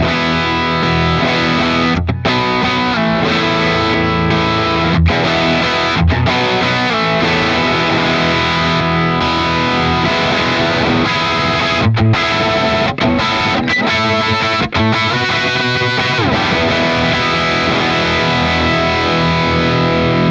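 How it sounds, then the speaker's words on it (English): Loud, heavily overdriven electric guitar through a PRS MT 15 tube amp plays continuously with thick, saturated chords and notes. Effects add width, and no one speaks. "I'll kind of show you what these different levels of gain sound like"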